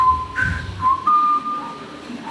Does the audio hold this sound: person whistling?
yes